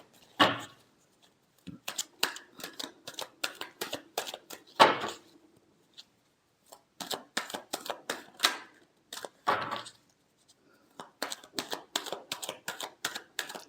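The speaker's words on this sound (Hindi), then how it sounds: "last shuffle" Tarot cards are shuffled close by in a long run of rapid crisp riffling flutters, in several bursts separated by short pauses, with no speech over them.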